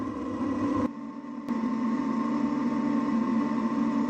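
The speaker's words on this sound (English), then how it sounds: "Next, blend it until super smooth." Blender whirring plant-based milk, cocoa powder and ground flaxseed into smooth vegan brownie batter, a steady motor whine that briefly dips and restarts near the start, then runs evenly and close.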